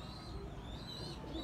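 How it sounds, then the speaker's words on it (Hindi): Pigeons released on a rooftop coo softly and steadily at a distance, with faint chirps layered over a low continuous background rumble. "ये देखें आज साहब जी ने कबूतर खोल लिए हैं"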